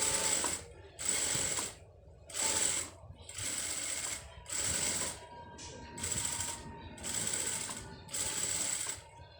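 Sewing machine stitching fabric for a round maxi dress, running in eight even bursts of about a second each with short pauses, close and mechanical with a rapid clattering rhythm; someone narrates softly in between.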